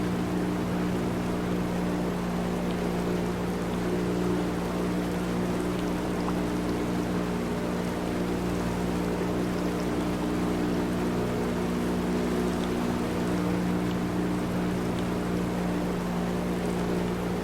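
A boat motor in the video game Our Lady of the Drowned Lake drones continuously at an even pitch, a steady mechanical hum with a faint watery wash underneath and no voices.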